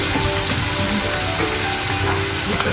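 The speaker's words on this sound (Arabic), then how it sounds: "ننزل بقى كده ايه الثوم عندنا في نفس الزيت والزبده اللي احنا عملناها. طبعا هيتحمر على طول" Chopped garlic sizzles in hot oil and butter in a pan, a loud, dense, continuous frying crackle with no voices.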